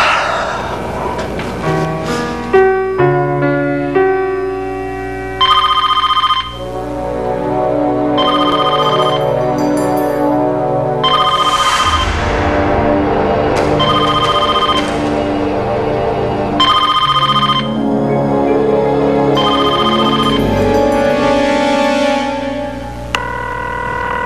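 A telephone rings again and again, its bursts of ringing repeating at regular intervals against quieter tonal background sounds, with no talk heard.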